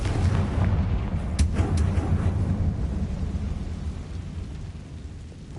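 A Confringo fire spell blasts in Hogwarts Legacy as a loud, deep rumbling boom that rolls on for several seconds, with a couple of sharp crackles early on before it slowly fades.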